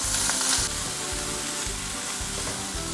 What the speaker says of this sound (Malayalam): അപ്പോൾ നമ്മുടെ ഉണക്ക ചെമ്മീൻ ഇപ്പോൾ ഒന്ന് ഫ്രൈ ആയി വന്നിട്ടുണ്ടേ